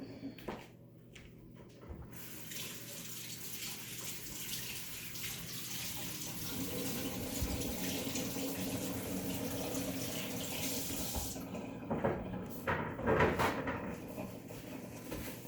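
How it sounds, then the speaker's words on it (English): Cold tap water runs steadily into a sink, a constant splashing wash that shifts in tone as hands are rinsed in the stream. "I'm gonna wrench off my hands in cold water."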